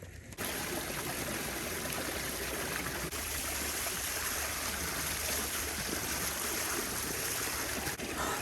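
Cold water pours and splashes steadily on a hot farm in Thailand, a close, continuous rushing wash that runs unbroken for several seconds with no talk over it.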